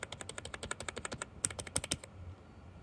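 Typing on a cheap Tech 1 LED backlit computer keyboard, a fast run of sharp, close key clicks that stops abruptly, leaving quiet room tone.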